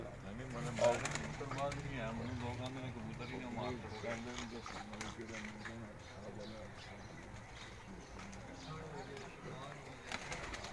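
Pigeons of a prized breed coo softly in a continuous low warble at a fancier's home, heard faintly beneath steady nearby talk.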